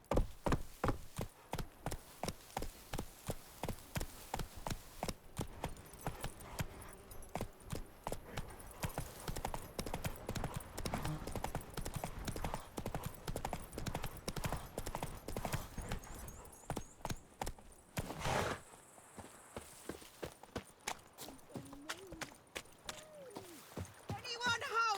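Roach the horse's hooves in The Witcher 3 clatter in a fast, steady clip-clop gallop, close and continuous for about eighteen seconds, then break briefly before the hoofbeats pick up again.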